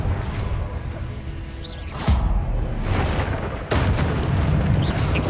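Confringo blasting spells going off in Hogwarts Legacy: loud booming explosions with whooshing bursts, two sharp impacts standing out over a continuous rumbling roar.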